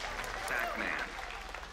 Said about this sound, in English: the crowd is up on their feet for Forever King